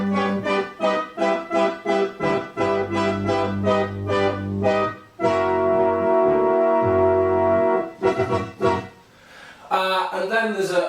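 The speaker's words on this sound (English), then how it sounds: "so modelled up a similar patch on the Mini Moog software instrument." Brassy polyphonic patch played on an Arturia Mini Moog software synth, sounding as a series of chords, first short punchy stabs and then longer held chords, with a brighter flourish near the end.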